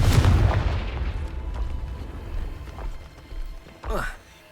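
A Confringo blasting spell in Hogwarts Legacy fires with a heavy booming burst, then smaller rumbling impacts and a last whooshing blast, close and loud, with a character speaking over it.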